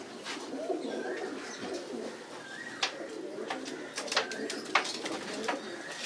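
Racing homing pigeons, medal-winning birds, cooing softly and repeatedly in a loft, with scattered brief chirps over low ambient background.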